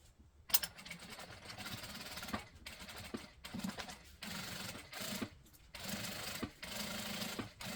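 A sewing machine stitches a seam on a bag lining, running in steady whirring bursts separated by brief pauses, close and fairly quiet.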